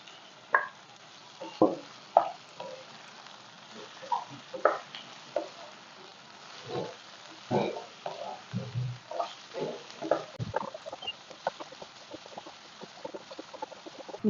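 Prawns frying in a pan for a spicy Hyderabad-style prawn fry, heard as close, intermittent sizzling bursts with stirring and scraping.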